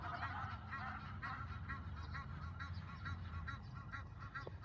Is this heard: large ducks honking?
yes